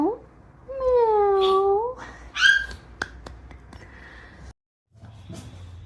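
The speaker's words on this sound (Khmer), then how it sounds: "មើលសត្វធ្វើសំឡេងសត្វឆ្មាមើល" A cat meows a couple of times in a toddler English lesson: short, clear, whining calls close up, followed by a few faint clicks and quiet background.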